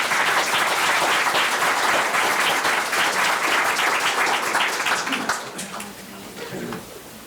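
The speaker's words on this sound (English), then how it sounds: "I notice how they get applause at the end of their reports" Students at a school board meeting get applause after their report, a loud sustained burst of clapping from the room that tapers off near the end as quieter murmurs take over.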